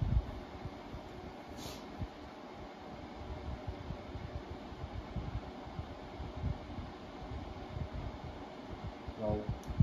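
Steady broadband whoosh of a Lasko all-season tower fan/heater blowing air, continuous and even, with a low uneven rumble beneath and a faint brief tone near the end.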